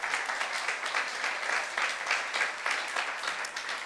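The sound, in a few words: congregation applauding in church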